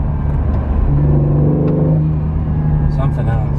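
An Acura NSX engine pulls hard in launch mode with rapid gear changes, a steady loud drone that rises in pitch and drops at each quick upshift, with the driver exclaiming over it.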